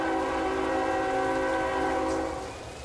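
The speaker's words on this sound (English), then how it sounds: "You'll hear them powering up here shortly." Twin locomotives of a Norfolk Southern local on the Pittsburgh Line powering up in Run8 Train Simulator, a steady layered diesel drone with sustained tonal hum, loud and continuous before easing slightly at the end.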